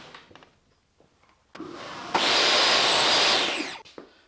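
A power saw cuts through pallet wood for drawers in a workshop, a loud steady rasping run of about two seconds with a sharp start, preceded by quieter handling knocks and ending with a brief clatter.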